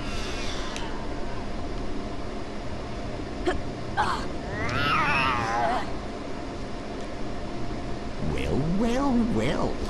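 In the PS1 Harry Potter and the Philosopher's Stone game, a cat catches the player with a loud, close yowling meow and drawn-out caterwauls, alongside game sounds and a voice talking at times.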